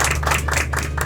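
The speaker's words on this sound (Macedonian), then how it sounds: "еден огромен аплауз за нашиот возач Марија" An audience claps for a driver named Marija, a short burst of fairly close, rhythmic applause lasting about a second.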